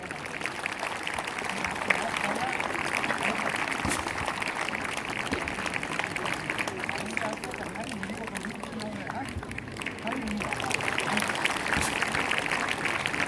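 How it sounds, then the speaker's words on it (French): Sustained crowd clapping for a Basque strongman at the fronton in Sare, a steady, moderately distant wash with voices talking over it throughout. "Allez, on peut l'applaudir déjà."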